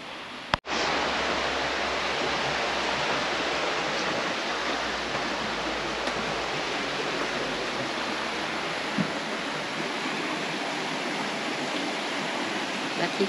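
A river in the Gramado area of southern Brazil rushes steadily, a continuous broadband roar of flowing water that holds constant from start to finish, with no voices over it.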